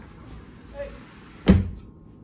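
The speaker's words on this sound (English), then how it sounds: "Let me close the door." A house door swings shut with a single sharp, close thud after a faint creak, followed by quiet.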